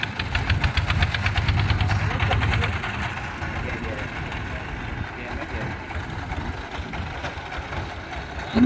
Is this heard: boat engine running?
yes